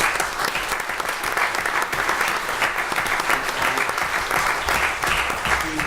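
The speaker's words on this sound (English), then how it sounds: "Would you give Charles Teskey a round of applause?" Audience at a county board of supervisors meeting applauding to honour a longtime fire department member, a full, sustained round of clapping throughout.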